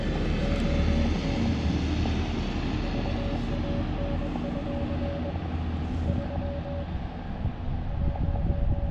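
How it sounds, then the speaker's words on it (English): A tractor drives past near Letchworth State Park, a loud, steady engine rumble that fills the whole stretch, with faint intermittent Morse code beeps from a portable radio underneath. "there's a tractor driving by"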